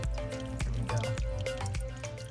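A small waterfall in a reptile enclosure trickles and drips close by, with irregular splashes and plops over a steady wet bed of running water.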